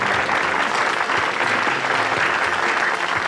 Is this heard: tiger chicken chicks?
no